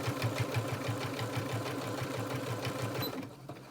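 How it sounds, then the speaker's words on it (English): A sewing machine stitches rapidly through four layers of cloth in a steady, rhythmic chatter, close by, then stops just before the end. "your sewing machine may struggle a little bit"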